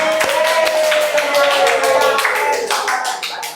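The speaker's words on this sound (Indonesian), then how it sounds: "tepuk tangan untuk teman kita ini dong" Classmates clap for a fellow student in a classroom, a burst of scattered, uneven hand claps with individual slaps standing out, while a voice talks over the top throughout.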